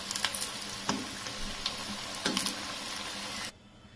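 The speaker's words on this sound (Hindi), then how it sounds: "इसको तेज फ्लेम में हमें इसको अच्छी तरह गोल्डन फ्राई करना है" Bread rolls deep frying golden in hot oil over a high flame: a dense, even crackle and sizzle with a couple of stronger bubbling bursts, heard up close, cutting off suddenly near the end.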